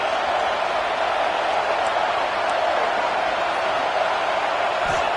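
A stadium crowd roars steadily in the College Football 25 video game, a dense, loud, unbroken wash of cheering that holds at full volume throughout.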